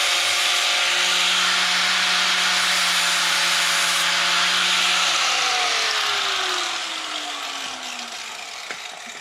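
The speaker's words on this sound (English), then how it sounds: "the bead is a little too thick, so I gotta shave it down just a little bit with a grinder" A grinder works down a thick weld bead on a Honda motorcycle part, a steady loud abrasive whine with a sustained pitch that shifts downward near the end as the tool eases off and fades slightly.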